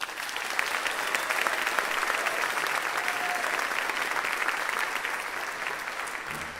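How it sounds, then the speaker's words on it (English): A convention audience gives sustained, even applause, many hands clapping together at a moderate volume that tapers slightly toward the end. "Give them a warm round of applause."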